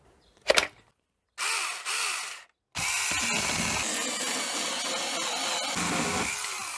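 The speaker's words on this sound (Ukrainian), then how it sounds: "Ось цим болтиком натягуємо цепку, зажимаємо гайку ключиком" A small wrench clicks and ratchets close up as a nut is tightened on a Revolt mini chainsaw, in short bursts broken by pauses, followed by a longer run of steady ratcheting.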